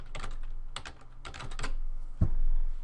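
Someone types on a computer keyboard while filling a spreadsheet, with quick bursts of close key clatter separated by short pauses and one heavier thud near the end.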